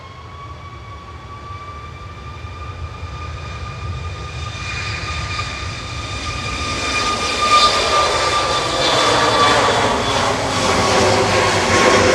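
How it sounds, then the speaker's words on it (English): Ryanair Boeing 737 MAX 8 jet at Manchester Airport lining up on the runway: a steady engine whine with rising tonal pitch grows gradually louder as thrust builds, with no voices. "Ryanair about to line up"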